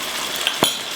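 Beef liver fries in a pan with butter and tomato sauce, a soft steady sizzle broken by a brief clink of a utensil against the pan near the end.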